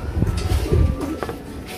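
Domestic pigeons coo in low, throaty bursts at close range, one call following another over a rough background hiss.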